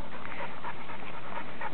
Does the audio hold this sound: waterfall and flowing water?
no